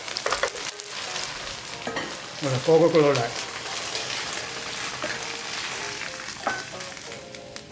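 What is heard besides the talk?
beef stir-frying in wok on high heat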